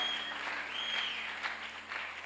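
A church congregation claps in acclamation to God during a worship service, a dense, sustained round of applause with a high whistling tone and shouts mixed in.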